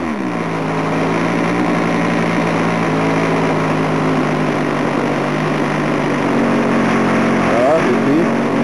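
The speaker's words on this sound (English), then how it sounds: "Now some revving." A small OS 46 LA model glow engine screams at high pitch, holding a steady loud rev close by, with a slight rise near the end.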